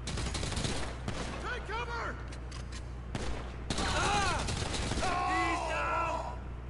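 Rapid bursts of video-game gunfire from GTA V Online during a mission fill the clip, with loud crackling shots throughout and people talking excitedly over the firefight.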